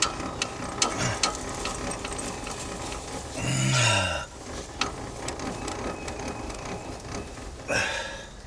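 A hand crank mechanism on a Toyota Tundra ratchets with close, crisp clicks, broken by a louder grinding burst midway and another near the end, with no talk over it.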